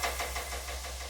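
A metallic knocking sample layered into a music score for an Apple commercial, with soft rhythmic knocks repeating every fraction of a second over a steady low drone.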